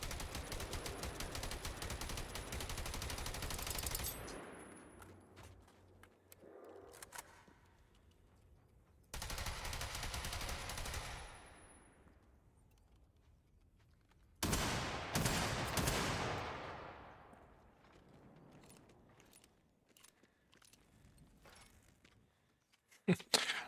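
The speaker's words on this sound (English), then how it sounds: "This shotgun has a unreal range." Shotgun blasts from the video game Generation Zero, three loud bursts separated by quieter stretches, each ringing out with a long decaying tail.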